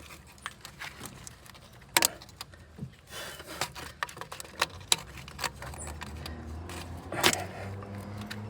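A retaining clip is worked off the water flange of a VW EA111 engine, producing close, scattered metallic clicks and snaps with a louder clack or two, over a quiet background and no speech.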